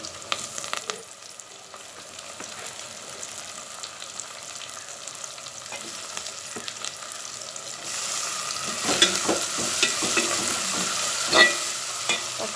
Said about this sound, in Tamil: வெங்காயமும் பூண்டும் பாருங்கள் நல்லா வதங்கிருச்சு